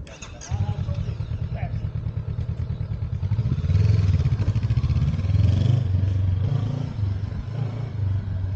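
Honda motorcycle accelerating during a rider training session, a steady close engine drone rising and swelling mid-clip, with speech over it.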